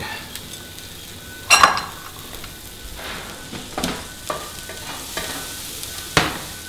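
Onions and meat for paleo burgers sizzle in a hot frying pan, a steady soft hiss broken by a few sharp utensil clinks and scrapes as the pan is stirred, close up with no talking.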